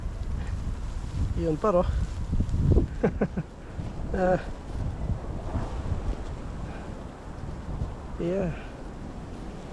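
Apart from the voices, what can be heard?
strong wind blowing in Canada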